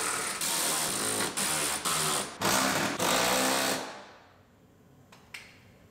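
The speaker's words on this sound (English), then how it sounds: "Tighten all the bolts up." Power tool whirring in bursts while tightening bolts inside a 2019 GMC Yukon Denali during a rebuild, several loud close runs broken by brief pauses, then stopping and fading to quiet with a faint short whir near the end.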